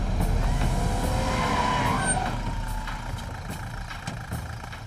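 A car skids as it is spun around to turn back, tyres scraping over a steady engine drone; the noise is loud and close, easing slightly toward the end, with no voices.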